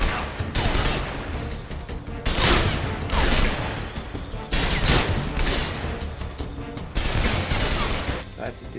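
Heavy gunfire in the Metal Gear video game, loud repeated bursts of shots with sharp onsets and decaying booms, recurring every second or so, dense and close throughout.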